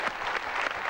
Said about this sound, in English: it took a round of applause, everybody.